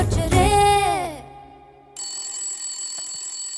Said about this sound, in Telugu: ఏ శైలు ఫోన్ రా, మాట్లాడు.